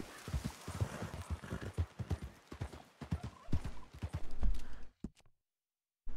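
Hooves of a Hungarian Half-bred horse in Red Dead Redemption 2, clip-clopping in a steady trot with a brief snort, close and fairly loud, then stopping abruptly into silence.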